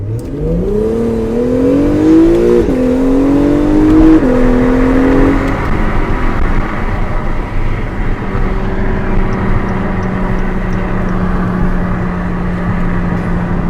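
A loud Subaru STI engine revs up in rising surges, then settles into a steady throaty rumble close by.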